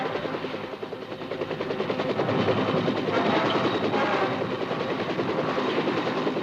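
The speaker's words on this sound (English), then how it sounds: "Air support of American ground troops and the use of high-speed Huey gunships impresses the enemy clearly with the meaning of air cavalry." Huey gunship helicopters in flight, a loud, close, pulsing rotor thump with a rough engine roar that swells and holds steady, with no voices.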